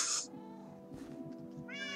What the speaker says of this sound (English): Why'd you hit my cat?